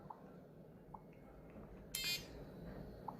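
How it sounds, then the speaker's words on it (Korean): A few short, spaced electronic beeps with one brief harsher buzzing burst in the middle, over a quiet low room hum, from a mini smart-tag GPS tracker while pairing with its phone app. "연결하라고 지금 아까 눌러가지고 삐삐 소리가 또 나버리네."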